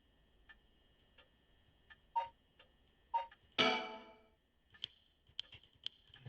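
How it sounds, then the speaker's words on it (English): A swinging pendulum clock in the game Paranormasight ticks in soft, evenly spaced clicks through a quiet room, broken by one louder, sharper crash-like burst partway through before the steady ticking resumes. "Swinging the pendulum echoes through the room."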